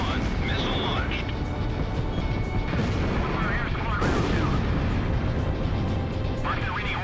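A missile launches amid bursts of gunfire in the jet combat game Ace Combat Zero, with sharp cracks and a loud blast near the middle over dense engine roar, while voices talk over the action.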